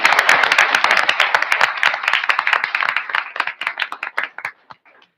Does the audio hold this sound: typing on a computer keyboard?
no